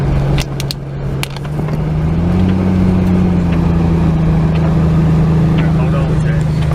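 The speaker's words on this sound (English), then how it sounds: "Hear the Jeep." A Jeep engine drones steadily while driving through a flooded, rain-soaked road, the low hum rising slightly in pitch and holding loud and close throughout.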